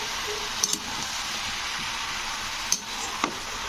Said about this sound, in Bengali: তো শাকগুলো দিয়ে এবার এটাকে ওপর নিচ করে দিতে হবে।